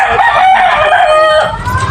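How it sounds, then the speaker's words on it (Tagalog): A rooster crows loudly and close, with hens clucking around it in a busy, continuous farmyard chorus. "may mga manok din."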